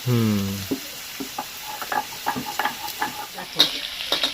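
Mixed vegetables frying in a pan for a vegetarian curry, with soft sizzling and a run of irregular spatula scrapes and taps after a brief opening tone, close and fairly quiet.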